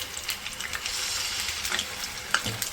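Garlic ginger paste frying in hot oil in a kadhai, a steady close sizzle with crackling pops and faint clinks, heard alone.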